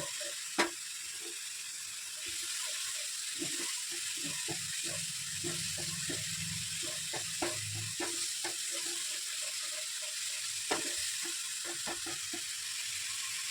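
Spice paste (masala) sizzling and frying steadily in oil in a pan while being prepared for Mughlai paratha, with soft scattered stirring taps and clicks over a continuous bright hiss.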